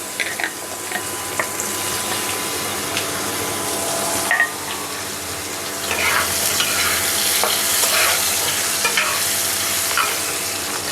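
Cut papaya added to a hot pan with potatoes and dried red chilli tempering, loud crackling sizzle and spatula stirring scrapes throughout, close and continuous.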